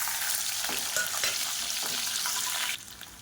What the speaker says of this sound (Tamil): ஒரு கைப்பிடி அளவுக்கு சின்ன வெங்காயம் பொடியாக கட் பண்ணதை சேர்த்துக்கலாம்